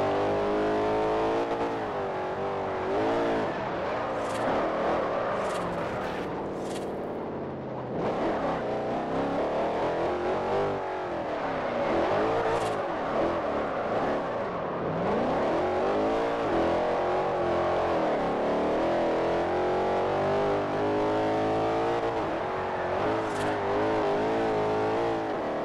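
Car engine revving and climbing through the rev range while driving, with repeated rising and falling pitch sweeps as gears change, loud and continuous from start to finish.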